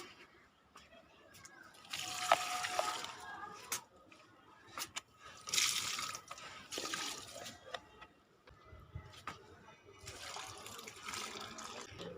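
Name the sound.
water being poured onto plants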